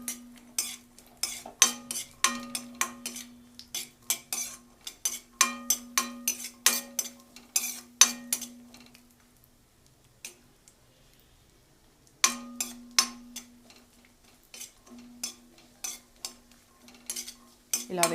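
Raisins frying in a pan for carrot halwa, stirred with a metal spoon: bursts of scraping clinks and ringing taps over soft sizzling, a pause partway through, then more stirring, close and clear.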